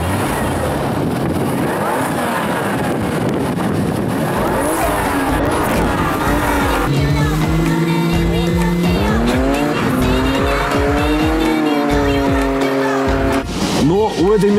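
Toyota car with a turbocharged 1JZ-GTE engine, VVT-i and an ST-15 turbo, rated at 280 hp, drives with loud, continuous engine noise and rising and falling revs, plus tire squeal. A voice talks over it throughout.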